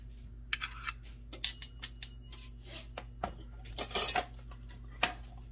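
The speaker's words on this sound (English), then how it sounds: "Mix that up with a fork." Fork clinking and scraping in a bowl while mixing dry ingredients including baking powder for an old-fashioned lemon pound cake, a quiet irregular series of light metallic taps over a low background hum.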